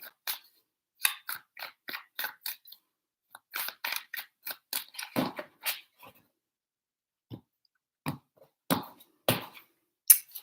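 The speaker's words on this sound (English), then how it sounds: "Three shuffles for Scorpio." Tarot cards are shuffled in bursts of quick, crisp riffling and snapping, several clustered rounds with short pauses between, close and fairly quiet with no voices.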